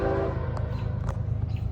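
A CSX or Norfolk Southern freight train approaches with a loud, steady low rumble, with faint horn-like tones near the start and no talk.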